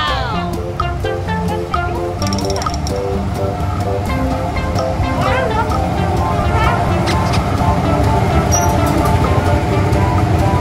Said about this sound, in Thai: ตอนนี้นะครับรถไฟใกล้จะออกแล้ว